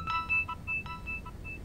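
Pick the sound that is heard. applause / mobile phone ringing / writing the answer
mobile phone ringing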